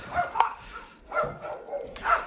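A mastiff barks in a series of three or four deep, fairly close woofs at an uneven pace, each one short and full-bodied, with faint whimpering tones between them.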